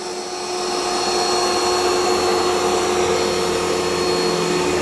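An Ecovacs Deebot X2 Omni robot vacuum running on carpet with its suction boosted: a loud, steady motor whine and rushing airflow that ramps up over the first second, then holds constant and close.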